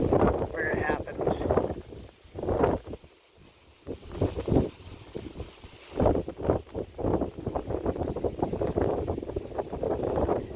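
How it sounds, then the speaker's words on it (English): Strong, gusty wind blows at the shore of Inman Lake in Kansas, buffeting the microphone in rough, uneven bursts, with choppy water beneath it. "Surprisingly choppy, but it is really windy today."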